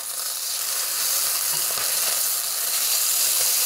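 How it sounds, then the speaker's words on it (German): Steady, loud sizzling of chicken breast frying in a hot pan, a continuous crackle with occasional soft pops and no talking. "So, und jetzt lasse ich sie weiter anbraten."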